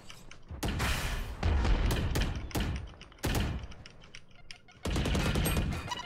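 Rapid automatic gunfire and heavy bursts ring out in a Valorant match, loud close volleys separated by brief lulls, with sharp repeated shots and booming impacts.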